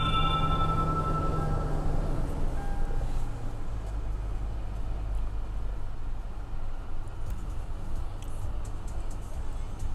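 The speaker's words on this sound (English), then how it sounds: "I'm going to go ahead and start my vehicle" A Lexus GX460 engine starts after a few short tonal chimes and settles into a steady, low idle rumble that continues to the end.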